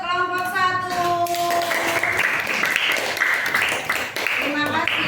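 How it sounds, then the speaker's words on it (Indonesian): A classroom audience claps for the first student group after its presentation, a dense patter of hand claps filling the room while people talk over it. "Tepuk tangan untuk kelompok 1."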